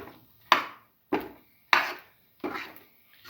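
Spoon working tutti frutti, cashews and raisins into a thick, ghee-rich beetroot corn pudding, heard as four separate scraping, clacking strokes against the pan at a steady pace, close and fairly quiet.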